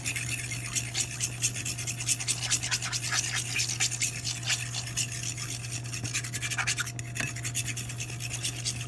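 A whisk or spoon scrapes and rubs steadily through a pan of whipping-cream sauce, working out lumps in a continuous close rasping texture over a low steady hum from the kitchen.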